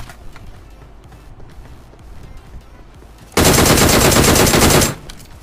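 Tommy gun firing in the mobile battle royale game BGMI, a loud sustained burst of rapid automatic fire lasting over a second after quieter in-game ambience and movement sounds.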